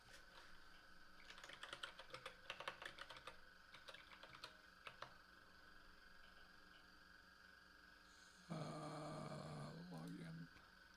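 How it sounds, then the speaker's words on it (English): Someone types on a computer keyboard, producing a run of quick, close key clicks in uneven bursts that fade out, over a steady background hum, before a louder droning noise comes in near the end. "I can start typing up"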